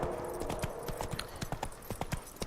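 Horse hooves clip-clop steadily on hard ground in The Witcher 3, a fast, close rhythmic patter of hoofbeats that fills the moment without talk.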